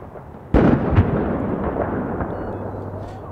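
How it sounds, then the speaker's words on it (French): A grenade exploding in the Dragon's Teeth shooter game, one sudden loud, close blast followed by a rumbling, slowly fading tail. "Putain, la grenade."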